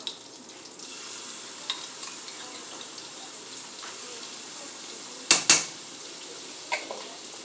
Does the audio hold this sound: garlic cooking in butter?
yes